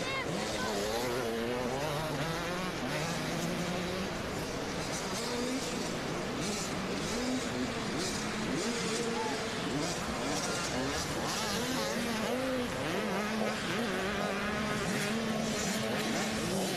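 Husqvarna motocross bikes racing at the Southwick GP, several engines revving and droning together in a dense, continuous roar that rises and falls as riders pass.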